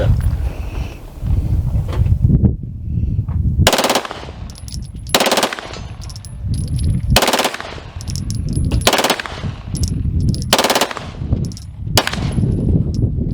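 A minigun fires repeated short, roaring bursts at an outdoor shooting range at a special weapons training center in Grantsville, Utah. About six loud, dense volleys are separated by brief gaps filled with lower ambient noise.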